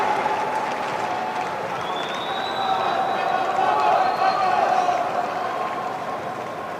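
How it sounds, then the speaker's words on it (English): A US Open tennis crowd at a night match cheers and applauds after a missed serve, a broad roar swelling midway and then fading, with commentators talking over it. "They cheer."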